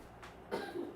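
A single short cough, fairly close, followed by a brief rough throaty burst in a quiet room.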